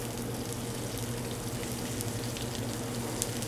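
Sesame-crusted ahi tuna searing in a hot pan gives a steady, fairly quiet sizzle and crackle with scattered small pops, continuous throughout with no talking.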